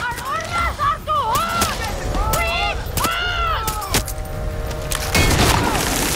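Far Cry 6 combat with gunfire and explosions, heavy thuds and sharp cracks punctuating a chaotic battle mix, while voices shout over the din close up.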